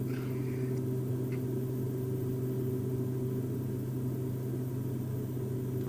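Twin turboprop engines of a Beechcraft B1900D in X-Plane 11, throttled back on landing approach, giving a steady, loud, continuous droning hum with a low tonal buzz and no talk.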